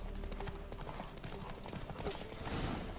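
Horse hooves clip-clop in a rapid, steady rhythm as a rider gallops in The Witcher 3 video game, with faint background game sounds; no talking.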